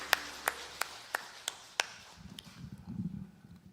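A church congregation at a Korean Sunday service claps in unison, six sharp, evenly spaced claps in a steady beat, then the clapping stops and a low murmur of voices follows.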